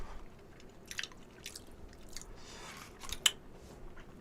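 Soft chewing and slurping while eating chewy wheat noodles and dumplings, a close, quiet series of wet bites and mouth sounds with one sharper click near the end.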